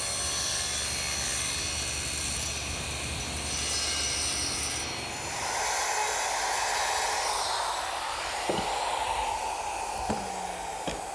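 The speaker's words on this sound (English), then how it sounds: "using a little jig that I made and my router, which is set up with a collar and a 1/2-inch straight bit" A handheld router with a collar and 1/2-inch straight bit, guided by a shop-made jig, cuts into wood, giving a loud continuous high whine whose tone shifts midway as the bit bites deeper.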